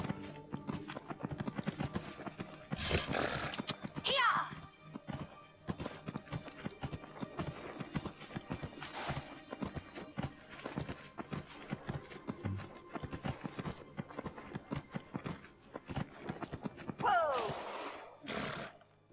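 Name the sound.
horse galloping and neighing in video game Dragon Age: Inquisition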